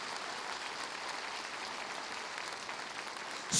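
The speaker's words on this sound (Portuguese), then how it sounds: "Vamos aplaudir o Senhor." A church congregation applauds the Lord, a soft, steady wash of distant clapping that holds evenly for a few seconds before a louder burst at the very end.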